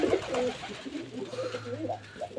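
Pigeons coo in soft, repeated low rolling calls through a steady murmur of background, with no talking over them.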